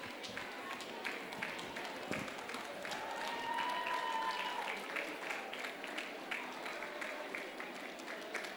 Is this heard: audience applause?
yes